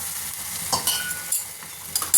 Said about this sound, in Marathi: हे सगळं मिश्रण हलवून घ्यायचं चांगलं व्यवस्थित